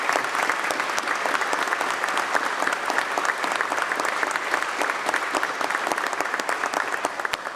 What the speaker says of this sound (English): How about a round of applause for these New York soldiers?